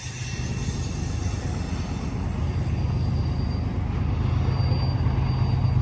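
A freight train led by Dash 9 and ES44 locomotives rolls past close by in a continuous loud rumble of wheels and cars, with high metallic wheel squeal ringing above it throughout.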